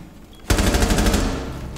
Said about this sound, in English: I shot him through the wall.